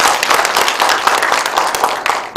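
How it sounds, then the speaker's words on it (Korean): Loud, dense audience applause at a local history and culture symposium in a library hall, many hands clapping together in a sustained close burst, with no voices over it. "박수 한번 부탁드립니다."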